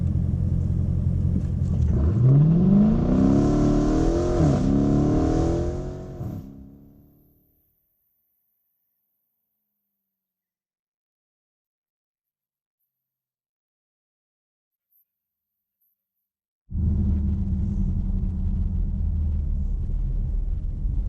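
A Dodge Challenger fitted with a K&N cold air intake roars hard during a burnout attempt, the engine note rising then dying away into several seconds of silence before a deep idle rumble returns.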